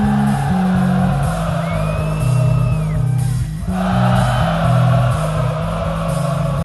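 A huge arena crowd sings along loudly with a band performing a song live, a dense mass of voices over heavy pulsing bass and guitar, with a brief dip midway before it surges back.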